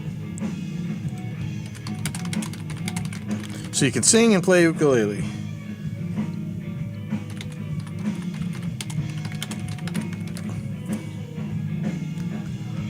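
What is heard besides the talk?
typing on a computer keyboard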